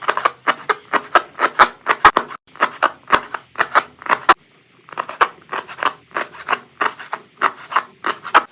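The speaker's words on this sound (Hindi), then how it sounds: "तो इन तमाम चीज़ों को भी ना इसी तरह बारीक बारीक काट लेना है।" A knife finely chops spring onion greens, fenugreek, coriander and green chillies on a board: fast, even, close strokes in a steady rhythm, with one short pause midway and no talking.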